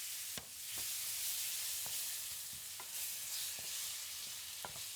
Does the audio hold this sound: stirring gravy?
yes